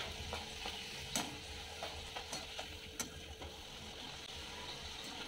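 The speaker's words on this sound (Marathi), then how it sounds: "जेव्हा पुऱ्या तळताना तेव्हा असं प्रेस करा साईडने" Puris deep-frying in hot oil and being pressed at the side so they puff up, giving a steady low bubbling sizzle with a few sharp crackles and spatters throughout.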